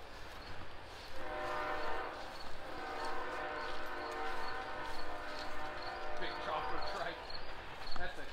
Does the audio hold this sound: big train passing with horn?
yes